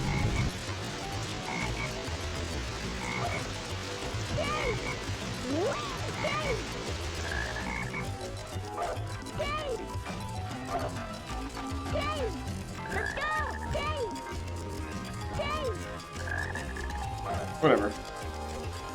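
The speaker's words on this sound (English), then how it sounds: "There's that black frog again." Repeated croaks from a frog in the rainforest stage of the Sonic Heroes video game, sounding at intervals through steady game music and sound effects, with talking over much of it.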